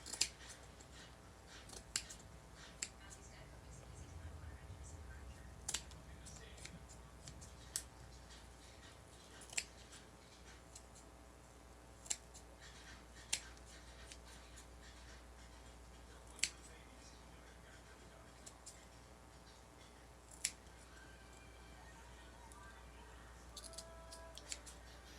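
Scissors trim a red, white and blue spiral wreath, giving sharp, isolated snips at irregular intervals over a faint, quiet background.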